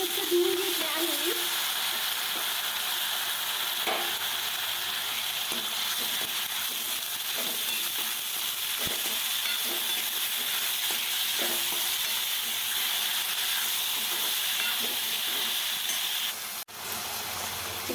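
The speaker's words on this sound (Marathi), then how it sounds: "तर हे बघा आपला कांदा चांगला परतलाय. गॅस थोडं कमी करते मी. आणि आता त्यामध्ये हुलगे टाकते." Sprouted horse gram goes into a pan of sautéed onions over lowered heat, giving a steady, loud frying sizzle and hiss throughout with a few faint stirring knocks.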